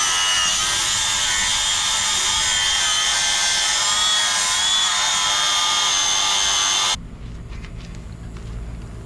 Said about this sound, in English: you're gonna wanna use a flat disc sanding wheel on a grinder, and we're gonna just shave this nice and flush.